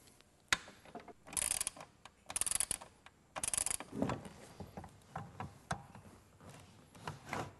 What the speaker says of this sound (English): So we're going to take these 4 bolts off and get closer to getting this done.